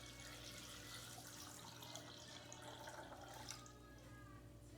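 Four cups of filtered water pouring into a Vitamix blender jar over almonds, a faint continuous splashing trickle under a steady low background hum, easing off near the end.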